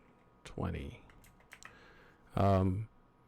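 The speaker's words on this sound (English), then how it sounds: "we'll go ahead and just type in BEP20" A computer keyboard gives a few quiet, scattered clicks of typing between two short bursts of a person's voice.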